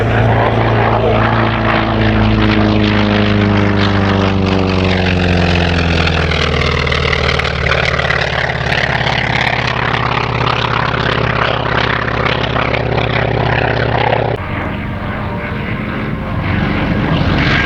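T-28 propeller aircraft flying at the Serpentine Victoria Centenary Air Show, its loud droning radial engine roaring continuously with pitch sweeping as it passes overhead.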